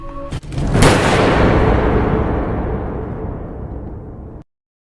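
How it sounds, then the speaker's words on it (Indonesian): Police gunfire in a film scene: one loud, close blast that swells into a long, rumbling roar and fades over several seconds before cutting to silence. "Kemudian polisi datang dan menembak Robert"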